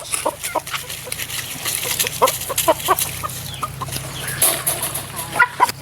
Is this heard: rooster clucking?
yes